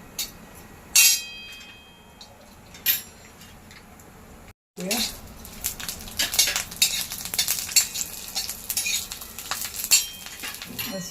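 Stringy ridge gourd peels roasting in a pan for chutney, giving a soft steady sizzle and scraping with a few sharp clinks of a utensil against the pan, close up.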